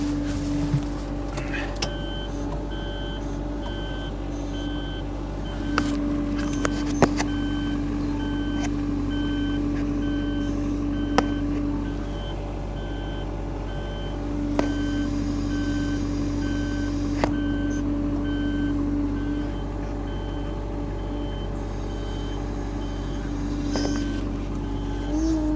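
A machine backs up with steady reversing beeps repeating in a regular pulse over a low engine rumble, with occasional clanks and a voice speaking briefly.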